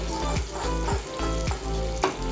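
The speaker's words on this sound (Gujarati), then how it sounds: "આપણું તેલ આવી ગયું છે, આપણે પેસ્ટ એડ કરી દઈશું." Spice paste for urad dal frying in hot oil, a loud, steady sizzle with rhythmic scraping strokes of a spoon stirring it around the pan, repeating roughly every half second, with no talking.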